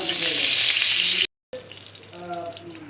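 Dried red chilli and bay leaf sizzle loudly in hot oil in a home kitchen, a steady bright frying hiss that cuts out briefly and resumes softer, with a voice speaking over it.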